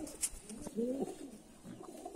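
A male pigeon of a Mussalam-type show breed gives a low, throaty coo near the mic, a couple of soft rolling phrases over quiet room background.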